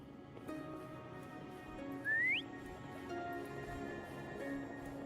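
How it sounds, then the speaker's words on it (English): A character in the Wuthering Waves video game whistles once, a short rising note heard alone over a steady, quiet game ambience. "Try whistling."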